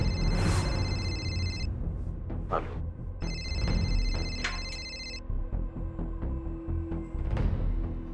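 A telephone rings in two long electronic bursts with a pause between, over a busy background of rumble and clatter.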